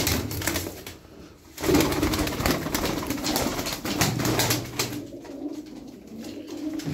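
Tumbler pigeons cooing close by, repeated soft throaty coos over a busy rustling background, with a brief dip in the sound before it resumes.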